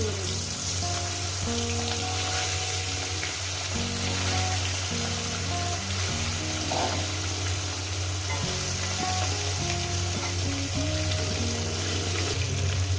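Hilsa fish heads fry in hot oil in a pan, giving a steady, loud close sizzle that runs the whole time, with low background hum and no talk.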